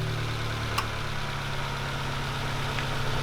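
A Subaru BRZ engine with a new JDL 4-2-1 exhaust header idles steadily, a low, even rumble with a slight rough throb, close and constant throughout.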